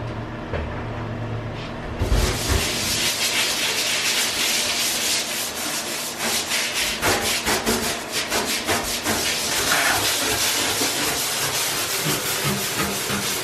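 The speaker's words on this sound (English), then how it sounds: "I also found this old nylon bristle scrub brush, which I think will help loosen up the debris" A nylon bristle scrub brush scours an old porcelain bathtub with continuous, loud, close rhythmic scrubbing strokes that begin after a brief quieter moment, with no voices.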